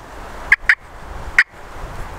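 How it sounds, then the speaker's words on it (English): Three short, sharp turkey clucks are struck on a pot call, two close together and then one after a pause, crisp and near against a quiet background. "So again, you've got a cluck,"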